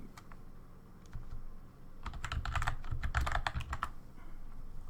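Computer keyboard typing heard close, with a few scattered keystrokes at first, then a dense rapid burst of clicking, with no talk.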